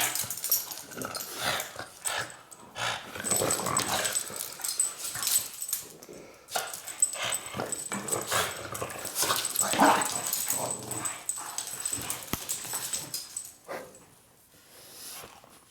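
Several dogs chase and play together in Las Vegas, with yips, short barks and whimpers scattered through a long stretch of scuffling and panting, fairly close and loud at times, fading toward the end.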